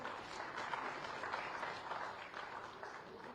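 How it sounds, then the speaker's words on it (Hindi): Applause for an award winner at a security leadership summit ceremony, a steady, dense crowd clapping heard at a moderate distance and fairly quiet, continuous across the whole stretch with faint voices mixed in. "जोरदार तालियां के लिए"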